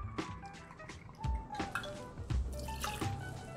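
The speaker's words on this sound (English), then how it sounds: "So we're gonna do a 3 ounce pour on this rye vodka." Rye vodka is poured into a cocktail, giving a three-ounce stream of liquid with uneven drips and splashes against the glass and a few light clinks and handling noises, close and moderately loud.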